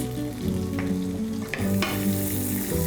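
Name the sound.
chopped shallots frying in oil used for steak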